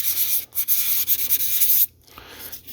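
Steady back-and-forth sanding on 600 grit abrasive while cleaning an antique 106-year-old Molle No. 3 typewriter, close and loud rasping strokes that stop abruptly near the end.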